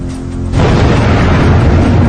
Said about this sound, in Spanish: una explosión aún mayor hace estallar en pedazos el edificio que alberga el reactor número 3